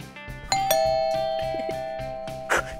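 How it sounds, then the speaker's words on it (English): A doorbell chimes with a bright ding-dong that rings out and sustains, a second chime following, over a bouncy cartoon music bed in a children's game show. "It sounded like a doorbell."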